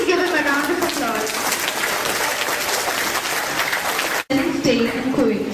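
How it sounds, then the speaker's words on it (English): An audience at an Indian English Academy School science assembly in Kuwait claps in a dense, steady round of applause. It stops for an instant near the end and then picks up again briefly. "Please give him a round of applause."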